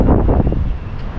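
Wind blows across a microphone at an outdoor fishing spot, a loud, rough, low rumbling buffet that gusts unevenly throughout the short moment.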